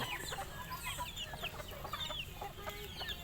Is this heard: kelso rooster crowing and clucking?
yes